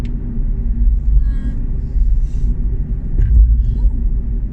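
A Honda e electric car drives through the city, heard from inside as a steady low road rumble and tire noise with a few soft swells, and no one speaking.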